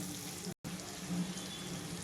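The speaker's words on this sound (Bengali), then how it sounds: "এগুলোকে আমি 2 থেকে 3 মিনিটের মতো একটু তেলে নেড়ে নেব।" Vegetables being stirred in a little oil in a pan for a paneer Maggi dish, a faint, steady low sizzle that crackles on and off and breaks off briefly near the start.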